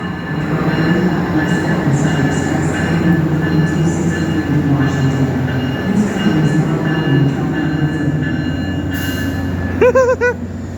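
An Amtrak passenger train rumbles loudly at a station platform with a steady low roar and wheel noise, and near the end come a few squeals and a short tonal chime.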